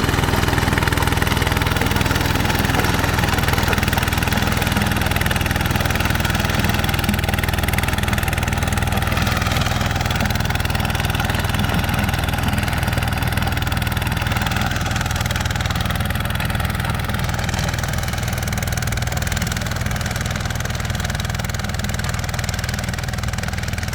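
ZT155PLUS walking tractor engine running steadily while dry-tilling hard, lumpy soil, a loud continuous close-up mechanical drone with no pauses throughout.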